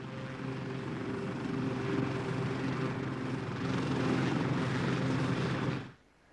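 An army helicopter keeps up a steady, loud rotor and engine drone with strong low harmonic tones, close by and continuous before it cuts off abruptly near the end.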